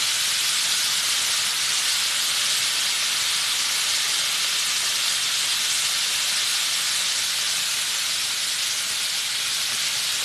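Chicken livers fry at a rolling boil in hot grease for a Southern Sunday lunch, giving a loud, steady sizzle and hiss that holds evenly from start to finish with no voices.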